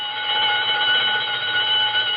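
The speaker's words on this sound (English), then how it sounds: "That burglar alarm on Bernstein's first door. It always goes haywire at 7:32." A shop-door burglar alarm rings continuously, a loud, steady electric bell tone with no pauses and no voices over it.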